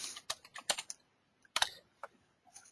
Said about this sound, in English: we're going to type in Cleaning.